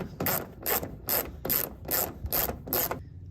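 Seven quick bursts of a hand ratchet clicking as 8mm bolts are backed out on the rear driver side of a Ram 2500 Cummins, each burst evenly spaced and close up.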